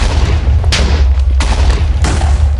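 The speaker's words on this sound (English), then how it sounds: "So I could sit here and fire off grenades basically all day long." A grenade launcher fires repeatedly in Minecraft, with heavy low booms rolling one after another about every second or so, each loud, close blast followed by a crackling burst over a rumbling bed of sound.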